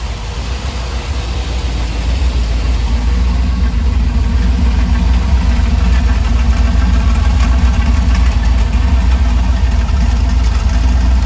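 A Dodge Ramcharger's 440 V8 idles steadily after an oil pump repair, a loud, even low rumble that holds unchanged from start to finish with no talk over it.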